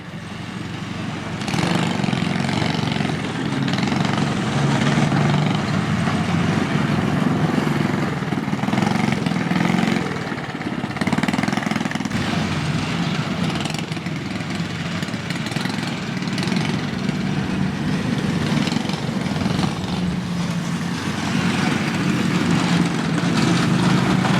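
Small engines of several cyclekarts droning steadily at a spring race meeting, a continuous buzzing roar that swells and eases as the karts run past.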